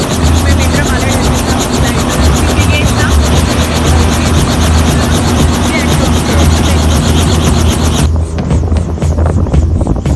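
Constant loud rotor and engine roar inside a helicopter during a ride, with steady buffeting and wind noise that drops sharply near the end.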